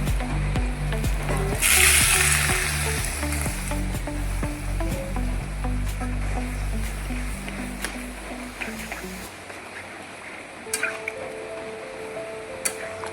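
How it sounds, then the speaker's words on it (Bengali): Water poured into a pan of frying soybean chunks and potato sets off a loud burst of hissing sizzle, then a steady bubbling that thins out, with a few clatters near the end. "জল দিয়ে দেবো"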